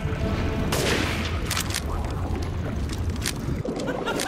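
Weapon fire in Resident Evil Village VR mode during the Mother Miranda fight: heavy booming shots and blasts over a dense, rumbling game mix, with several sharp bursts standing out loudly.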